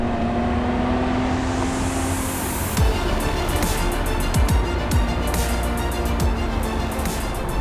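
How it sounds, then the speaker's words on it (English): A BMW M5 E34 Touring's straight engine holds a loud, steady roar close by, with a rising whine early on and then sharp shift-like breaks as the revs climb again. "It's a true M car, and that means it likes to rev."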